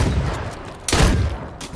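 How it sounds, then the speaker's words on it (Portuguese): A burst of gunfire in the video game H1Z1 erupts over a noisy, rumbling background, loud and sustained for a moment before fading back. "Ele errou todos os tiros."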